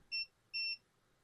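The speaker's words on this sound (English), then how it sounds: "And the way we test is by putting our multimeter into continuity mode and testing here and here." Two short, clear electronic beeps from a multimeter in continuity mode while probing points on a bricked Elgato capture card circuit board, each tone lasting about a fifth of a second with a brief gap between.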